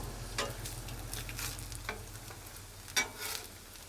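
Hash browns, ham and bacon sizzle on a Blackstone griddle with a soft, steady frying hiss. A few sharp scrapes and clicks from a spatula break through, and nobody speaks.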